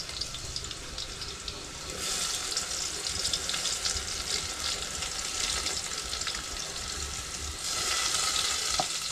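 Onion frying in oil in a village kitchen gives a steady, hissing sizzle that swells louder partway through and keeps going to the end, with light stirring.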